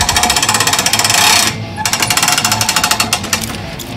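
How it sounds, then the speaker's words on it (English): Hand winch on a Swisher pull-behind log skidder lowering the expandable tongs onto a log: rapid, evenly spaced ratcheting clicks, loud and close, with a brief break partway through before the clicking resumes. "You release the safety latch on the hand winch."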